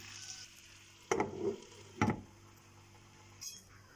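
Potatoes cook in a covered pan, a faint sizzle under a few sharp clanks of the lid and pan at uneven intervals.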